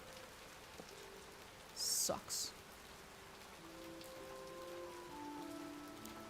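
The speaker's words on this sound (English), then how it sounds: "Why is it still raining?" Steady rain falls in the video game The Necromancer's Tale, a constant soft hiss with a couple of brief louder bursts, while a man mutters briefly over it.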